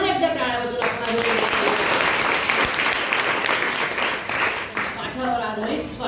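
Audience applause for drama performers, steady clapping from a crowd that fills the whole stretch at an even loudness, with a voice talking over it near the start and again at the end.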